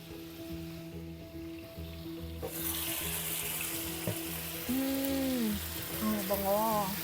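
Garlic and onion hit a hot pan and burst into a steady, bright sizzle that keeps frying on, with faint kitchen clatter behind it.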